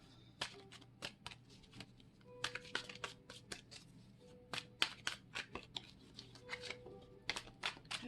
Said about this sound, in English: What I do is lay out 5 piles, and I try to see as many aces as I can, pulling up to 13 cards.